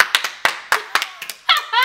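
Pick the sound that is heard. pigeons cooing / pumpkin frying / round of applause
round of applause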